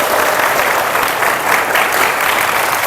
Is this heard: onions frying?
no